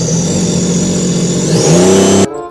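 A jet ski engine runs steadily at close range with a mid-pitched drone, then rises in pitch as it revs up before cutting off abruptly.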